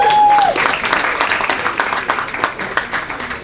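Applause for a speaker at a civic celebration in the Great Falls Historic District in Paterson, loud and full at first, then gradually thinning with a few lingering claps.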